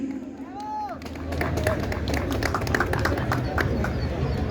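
An audience at a book festival breaks into applause for an author, clapping building up after a brief moment and continuing loudly, with some crowd murmur and a voice beneath it.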